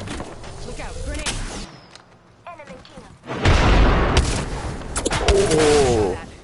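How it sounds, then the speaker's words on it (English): A grenade explosion and gunfire in the video game Apex Legends: scattered shots and game effects, a short lull, then a heavy booming blast followed by continued loud firing, with voices speaking throughout. "Look out, grenade!"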